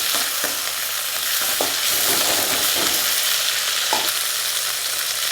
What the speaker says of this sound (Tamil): நம்ம அரிஞ்சு வச்சுருக்க தக்காளி பூண்டு இதெல்லாம் சேர்த்துக்கின்னு மறுபடியும் ஒரு நல்லா ஒரு ரெண்டு அல்லது மூணு தடவை நல்லா வதக்கி விட்டுக்கணும்